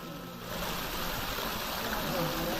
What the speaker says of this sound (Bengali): এরকম ভেতর ও বাইরে থেকে ঝর্ণা দেখার সৌভাগ্য